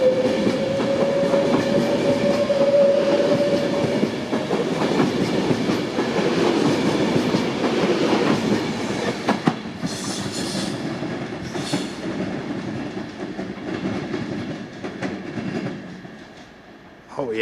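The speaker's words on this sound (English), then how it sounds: "when they go over the points, they sound amazing." A Class 390 train departing Preston station rumbles over the points with rhythmic clickety-clack and faint wheel squeal, loud and close, gradually easing as it pulls away, with speech briefly in the background.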